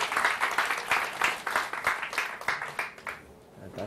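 A church audience at a pastor's training talk gives steady, warm applause, many hands clapping in a dense wash that fades out near the end, with a brief voice after.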